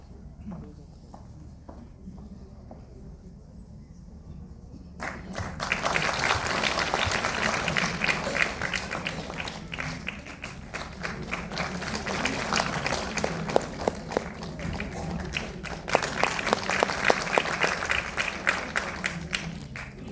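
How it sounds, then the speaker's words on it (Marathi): Audience applause at a stage event, starting after a few seconds of quiet talk and swelling into loud, sustained clapping with sharp individual claps that carries on to the end. "नीलाताईंसाठी एकदा जोरदार टाळ्या करायला"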